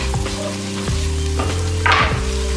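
Onions and vegetables sizzle in oil in a hot skillet while cooking jambalaya, a close, steady frying hiss with a few stirring scrapes and a brief louder crackling burst near the end.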